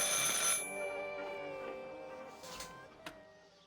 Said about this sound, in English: I should pick up the phone but remain silent.